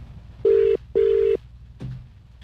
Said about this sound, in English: We'll give him another call.